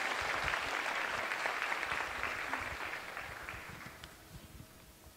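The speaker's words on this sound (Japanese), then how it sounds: "皆様どうぞ大きな拍手でお送りください" Audience applause at a Japanese cosmetics press event, fading out as the clapping thins over a few seconds with no voices on top.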